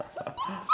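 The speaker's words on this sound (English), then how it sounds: "So we have Raleigh and Charlie's puppies here" Six-week-old Goldendoodle puppies giving short, faint whimpers and high yips, a few quick squeaky cries close by in a quiet room.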